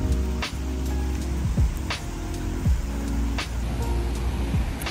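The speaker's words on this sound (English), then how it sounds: "And now it's raining when I have to take photos" Rain patters steadily on a hard surface outdoors, loud and close, with scattered heavier drops and a passing car hiss underneath.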